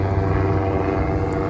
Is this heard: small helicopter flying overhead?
yes